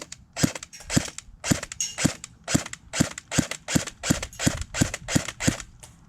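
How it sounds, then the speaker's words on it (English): An HK MP5 SD6 airsoft gun fires a steady series of about fourteen sharp, evenly spaced shots, each a crisp near pop with a short tail, with no voices. "So here's a short little firing test."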